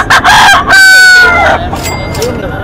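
A two-year-old Black Henny rooster crows loudly and close by, one long ringing cock-a-doodle-doo with shorter calls after it, and people talk in the background.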